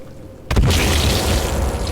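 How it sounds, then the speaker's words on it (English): A hand grenade goes off in the survival video game Sons of the Forest: a single loud, close blast after near-silence, followed by a long rumbling roar that fills the rest of the moment. "Knew the hand grenade would come in handy."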